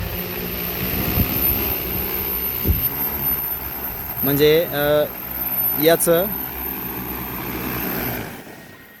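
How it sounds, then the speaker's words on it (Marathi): An agricultural spray drone's propellers whir steadily as it auto-lands, then cut off abruptly at the end, with someone speaking briefly over the buzzing. "त्याच्या जागेवरती आणि ऑटो लँडिंग होतं इथे"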